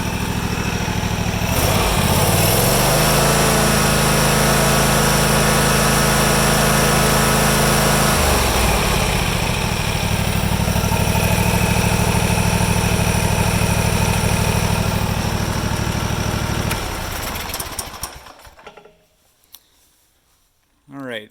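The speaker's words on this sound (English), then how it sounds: "I'll go to wide open throttle just so you guys can see that there." Small engine of a John Deere GT235 lawn tractor running steadily at wide open throttle, a loud close drone with shifting tone partway through, then cutting out and fading near the end.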